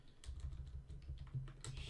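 Soft keys tap out code on a computer keyboard in an irregular, faint patter, steady clicks heard close over a low background hum.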